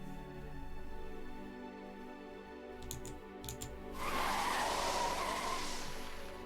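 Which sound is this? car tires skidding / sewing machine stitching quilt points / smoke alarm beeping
car tires skidding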